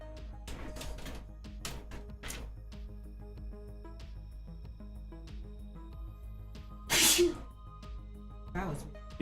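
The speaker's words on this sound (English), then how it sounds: "like a weird sneeze." One sudden, loud sneeze bursts out partway through, amid quiet talking and faint background noise.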